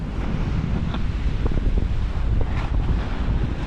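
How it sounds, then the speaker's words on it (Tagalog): Strong wind buffets the microphone in a constant low roar, with gusts rising and falling throughout and no voices. "Saka malakas din ang hangin."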